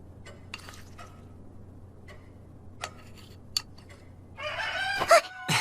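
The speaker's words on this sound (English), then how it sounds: "That's a rooster. They keep them here in the country." A rooster in a country village crows loudly and close near the end, after a quiet stretch broken by scattered ticks and faint calls.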